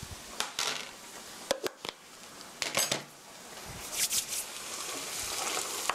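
Ketchup is stir-fried with brown sugar in a pan for a meat sauce rice bowl, heard as scattered metal clinks and scrapes of a utensil against the pan over a low, steady sizzle, with no talking.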